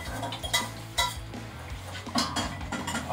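Carbonara pasta with egg being stirred in a pan, a utensil clinking and scraping against the metal in a few irregular knocks over a faint sizzle, close and fairly quiet.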